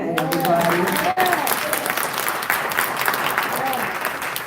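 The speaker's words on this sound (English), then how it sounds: "Give him a hand, everybody." Audience at a village meeting breaks into loud, sustained applause, dense clapping filling the room, with a voice speaking over it at the start and brief cheers mixed in.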